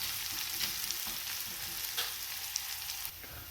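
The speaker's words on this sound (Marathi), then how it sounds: "पण कांदा भाजत असताना आपल्याला जास्तीचा सुद्धा भाजायचा नाही" Onion sautés in a pan for usal, sizzling softly and steadily. Faint scraping stirs interrupt the sizzle now and then, and no one speaks.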